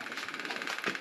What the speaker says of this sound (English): Got a little knocker style fuel pump there.